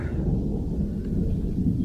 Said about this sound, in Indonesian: Dan suara petir.